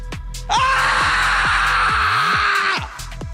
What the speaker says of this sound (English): Come on, get screaming, man.